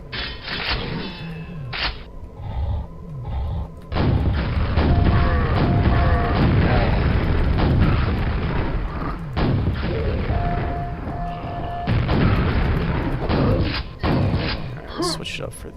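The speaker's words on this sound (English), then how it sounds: "the rocket launcher in Quake is just so satisfying" Rocket launcher blasts in the video game Quake boom and thud over mechanical game noise and music, with someone talking over much of the action.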